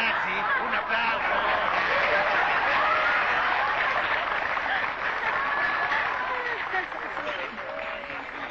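A crowd claps steadily, mixed with scattered chuckles and laughter, a dense wash of applause that fades slightly toward the end.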